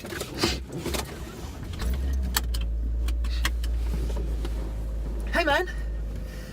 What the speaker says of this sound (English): I'm gonna put the car in drive and go home.